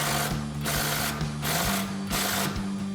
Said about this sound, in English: We're going to bring back our 21mm socket on our impact and tighten this one down first.